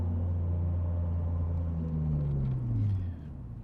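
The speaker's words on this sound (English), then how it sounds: "if I take it to a reasonable speed and hit the brakes in a straight line" A 1998 Nissan Skyline R34 25GT brakes hard in a straight line from speed, its steady engine and road rumble dropping in pitch as the car slows, ending with a quieter tail; no talk.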